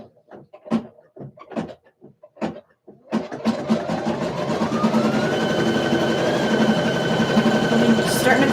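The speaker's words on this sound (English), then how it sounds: "I'm going to let it stitch down." A sewing machine stitching a shirt sample starts up after a few soft clicks and handling taps, then runs in a steady continuous whir that builds slightly and holds, close and fairly loud.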